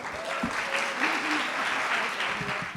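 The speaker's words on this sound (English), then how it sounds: "So let's give a round of applause to Stephanie." Round of applause from an audience at a talk on building innovative, high-performing teams, welcoming a speaker; dense clapping throughout, with a few voices briefly audible beneath it.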